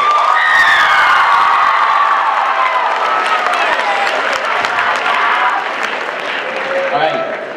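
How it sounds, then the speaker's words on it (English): School talent show audience at a high school applauding and cheering loudly, dense clapping mixed with whoops and children's shouts throughout, crowd noise slowly easing toward the end. "Give them another round of applause."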